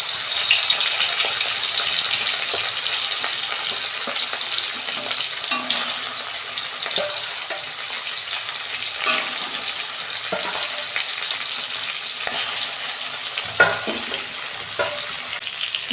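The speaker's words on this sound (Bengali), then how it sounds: "তেল গরম হয়ে গেছে, মাছটা ভেজে নিচ্ছি।" Fish fries in hot oil in a wok: a loud, steady sizzle with sharp crackles and occasional stirring clinks, continuous throughout with no talking.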